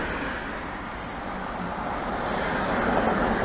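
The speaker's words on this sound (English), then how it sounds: "A lot of traffic at the moment" Steady roar of road traffic passing nearby, a continuous broad wash of engine and tyre noise that swells slightly toward the end.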